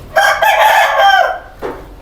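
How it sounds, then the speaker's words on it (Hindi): A single loud, close crow from an Aseel rooster kept on a goat farm in Multan, a long drawn-out call lasting over a second, followed by a brief softer sound and no talking. "ये जी असील मुर्गा भी रखा हुआ है।"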